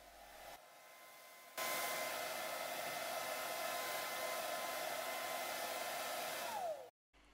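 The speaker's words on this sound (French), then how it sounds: "Nous allons nous assurer qu'elle est totalement sèche en utilisant le sèche-cheveux juste avant la cuisson." A hair dryer blows steadily on pork skin to dry it before roasting, switching on after a short pause, running loud and continuous for several seconds, then cutting off with a falling whine.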